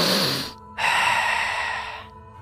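Someone sniffs the air in two quick, close bursts, separated by a brief pause.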